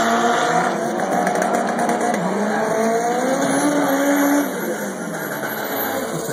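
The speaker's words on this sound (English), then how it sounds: "NG900s are often drag raced." Loud, close roar of a Saab NG900 car drag racing, a sustained engine note with rising and falling tones under constant road and wind noise, easing slightly toward the end.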